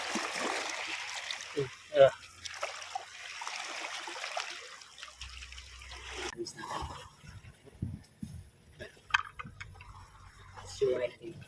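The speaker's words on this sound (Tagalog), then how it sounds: "So ay hugasan sa tubig." Water runs from a tap over lemons being washed, a trickling splash that comes and goes, with a person speaking and exclaiming over it.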